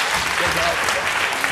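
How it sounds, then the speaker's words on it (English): Audience applause for volunteers from international school students, a dense, steady wash of clapping filling the whole short stretch, close and fairly loud. "Come on, give them a round of applause."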